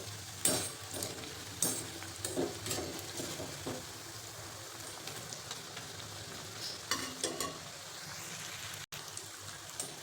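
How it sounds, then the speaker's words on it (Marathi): Crispy fasting bhaji, low-oil fritters for an upvas meal, sizzle steadily in hot oil with continuous bubbling crackle, close and moderately loud, broken by a few sharper spoon scrapes and splashes, with no voices. "छान तळू द्यायचे क्रिस्पी होईपर्यंत."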